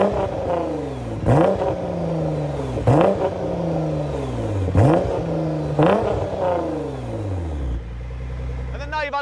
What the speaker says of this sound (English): Let's have a little listen to the car.